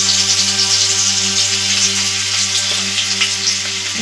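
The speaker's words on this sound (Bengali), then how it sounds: "সেই বাটারটা আমি দুটো দিয়ে দেবো, যে তেলটা দিয়ে চিকেন ভেজেছি ওই তেলের মধ্যে" Butter sizzling loudly in hot oil left over from frying chicken, a steady, close, continuous crackle with no talk over it.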